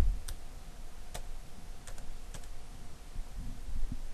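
Keys on a computer keyboard are tapped while a limit price is typed in, a handful of sharp, sparse clicks spaced apart over a quiet room hum, with no talking.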